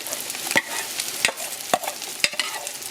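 Onion, garlic, pimento and hot pepper frying in a pot for Trinidadian pork pelau, with broadband sizzling and four sharp stirring scrapes at roughly even intervals, close and moderately loud.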